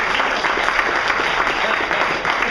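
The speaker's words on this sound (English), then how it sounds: "Round of applause for these guys who are great." A seated audience at a small business group's hypnosis show breaks into a steady round of applause, dense clapping filling the room for a few seconds.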